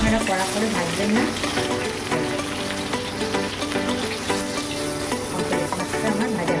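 Pomfret fish fries lightly in oil for a spicy Bengali curry, a dense continuous sizzle and crackle heard up close and fairly loud, with no voices over it.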